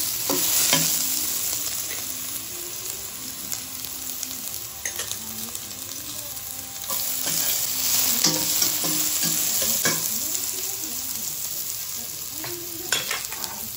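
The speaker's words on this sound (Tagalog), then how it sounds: "Lagyan natin ng mantika. Lagay natin ng bawang." Garlic sautéing in hot cooking oil for duck adobo crackles in a constant close sizzle, with repeated scraping of a spatula stirring the pan.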